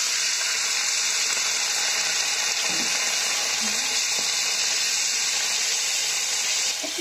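Water poured into a pan of cooking vegetables for Maggi noodles gives a steady, loud sizzling hiss with steam, continuous throughout with faint stirring clatter.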